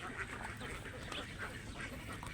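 Ducks quack repeatedly out on Laguna Lake, a faint and fairly distant scatter of calls over an open, quiet outdoor background.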